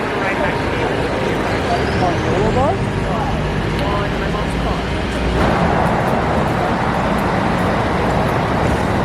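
A city bus moves through busy street traffic, a loud continuous roadway rumble with engine noise swelling and passing nearby, blended with other vehicles and faint talk.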